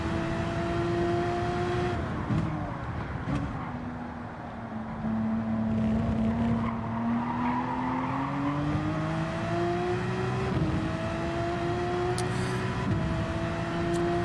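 A GTD race car in Gran Turismo 7 runs through the Daytona infield, its engine note rising and falling with shifts while the tires squirm and skid, a steady close roar throughout.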